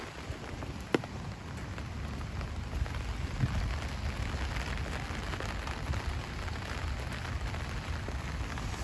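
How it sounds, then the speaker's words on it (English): Steady rain falls continuously on a rainy afternoon in Bulimba, Brisbane, a soft, even patter of drops on surfaces with no voices present. "Quite a bit of rain about."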